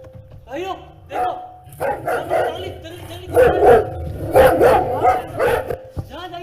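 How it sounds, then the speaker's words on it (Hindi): Dogs bark in a staged play about King Shrenik, loud and repeated in an irregular string of barks and yelps, with people talking over them. "भागो भाइयों, कुत्ते आ गए।"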